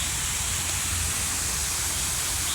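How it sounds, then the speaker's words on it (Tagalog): Small waterfall in a botanical garden in Hong Kong, a steady, broad rush of splashing water filling the whole stretch without pause, fairly close and even in level. "Ayan o, tubig guys. May falls."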